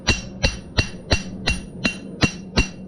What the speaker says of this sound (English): I'm hammering and I'm pushing the material